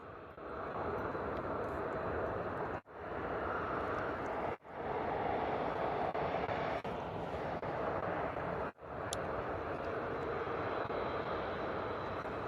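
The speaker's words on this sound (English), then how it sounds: "TUI Boeing 737 off to Enfidja." A TUI Boeing 737 takes off at Bristol Airport, its jet engines producing a steady, loud broadband roar that holds for the whole stretch with only brief dips.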